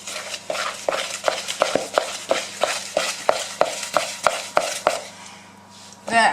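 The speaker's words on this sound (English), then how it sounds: "Now I mix it second time" Cupcake batter being mixed in a bowl, a utensil scraping and knocking against the sides in about a dozen steady, evenly spaced strokes, close and moderately loud, with a hum in the background.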